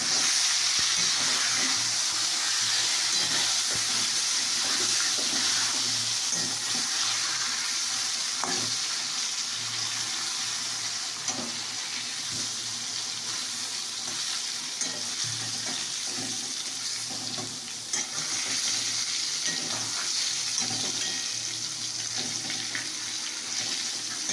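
Flat beans and eggplant fry in hot oil in a pan, a loud continuous sizzle with scattered scraping and stirring knocks throughout, close up and with no talk.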